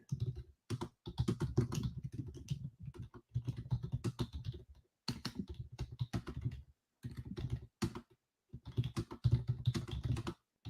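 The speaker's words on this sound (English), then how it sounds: "I'm going to be typing in our chat while I'm just waiting." Typing on a computer keyboard at a trading desk comes as bursts of quick, close key clicks broken by short pauses.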